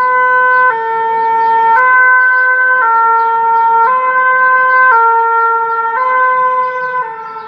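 Loud two-tone fire engine siren alternating high and low pitch roughly every second, sustained and close as the truck passes, fading slightly at the very end; no voices.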